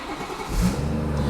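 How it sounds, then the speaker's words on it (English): BMW E46 318i starting up, a short engine catch that swells into a rising rev and settles into a steady close hum, with no talk. "as soon as you start the car, the start stop is deactivated"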